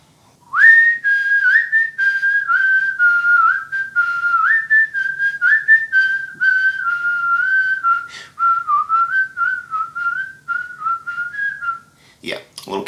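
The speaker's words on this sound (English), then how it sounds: "Can I whistle?" A lone person whistles the Kill Bill tune for about eleven seconds, a clear, steady, close pitched line with small slides between notes, ending in a brief burst of noise.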